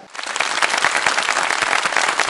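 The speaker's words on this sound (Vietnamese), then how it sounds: "Vâng, và một tràng pháo tay ạ." Audience applause with many hands clapping at once, loud and sustained and dense throughout, heard alone without speech over it.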